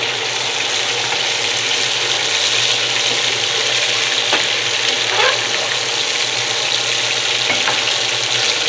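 Steak and potato pieces fry in hot cooking oil, a loud continuous sizzle with scattered pops and occasional scraping as they are stirred, close up with no talking.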